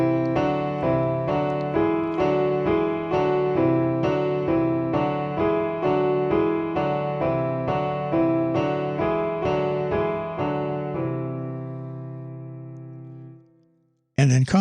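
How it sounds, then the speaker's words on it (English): Piano plays a whole tone scale in parallel motion, evenly spaced chords stepping along in a steady rhythm for about thirteen seconds before a final chord fades out, then a short loud burst at the end. "so it's going to sound like this, starting with parallel motion."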